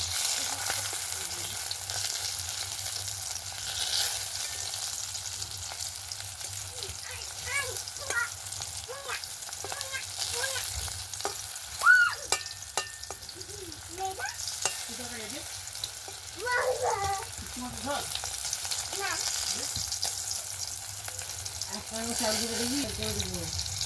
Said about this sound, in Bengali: এগুলো ভেজে নিচ্ছি দেখুন।